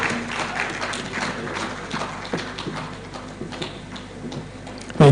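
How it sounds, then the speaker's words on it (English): A conference audience at a professionals' symposium claps in scattered, uneven bursts that stay fairly steady and moderately loud throughout, ending with a sharp, louder burst right at the close. "Can we give him another rousing round of applause?"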